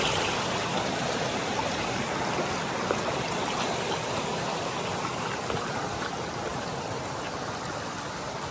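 Steady rushing and gurgling of a stream at a water crossing on the Appalachian Trail, a continuous close wash of flowing water with no talk over it.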